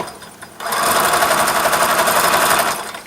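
A sewing machine stitches through a DIY weighted blanket filled with pellets, running steadily for a couple of seconds as a close, loud, even whir after a brief quiet start, then tapering off.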